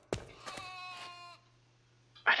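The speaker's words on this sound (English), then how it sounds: "It's like a sheep." A sheep in the video game RLCraft lets out a close, wavering bleat lasting about a second, followed by a brief burst of noise.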